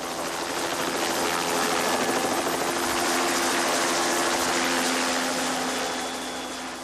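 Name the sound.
police helicopter engine starting up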